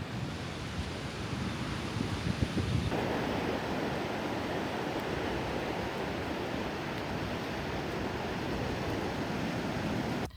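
Surf and wind on a Florida beach backed by sand dunes make a constant broad roar, with wind buffeting the microphone and breaking waves washing in steadily throughout, and no voices.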